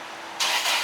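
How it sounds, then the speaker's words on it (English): A car engine turns over and catches close by, a sudden loud broadband burst that holds steady after a quiet start, with no talking. "Somebody started a car and I had to stop the camera for a second"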